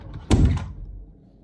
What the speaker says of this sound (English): when I'm trying to close the door.